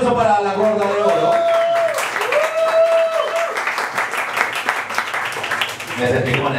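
A studio audience at a televised Peruvian talent show gives loud, sustained applause for a dance contestant, with a voice and music tones carrying over the clapping throughout.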